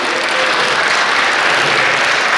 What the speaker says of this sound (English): Please give a big round of applause for this great session.